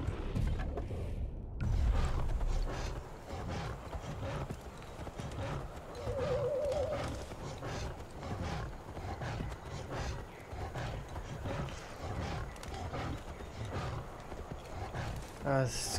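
Horse hooves clip-clop steadily while riding in Far Cry Primal, a continuous rhythmic trot under someone talking, with a brief neigh and some bird calls in the background.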